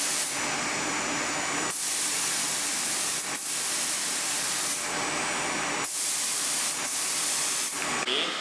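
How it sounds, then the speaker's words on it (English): A spray gun hisses loudly in several long bursts separated by brief pauses while painting a 1963 Buick Electra 225, a close, harsh airy rush with no talking. "So let's just spray like you normally would and we'll see what it's doing."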